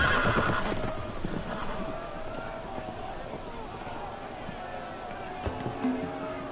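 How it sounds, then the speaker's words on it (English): Horses neigh and run loose in a fantasy video game scene, with loud whinnies at the start giving way to galloping hoofbeats and ambient game sound. "The horses! They're loose!"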